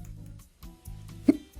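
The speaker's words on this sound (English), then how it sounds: "I'm just going to have to embarrass myself with hiccups." A single sharp hiccup bursts out close to the mic, sandwiched between stretches of low, quiet voice.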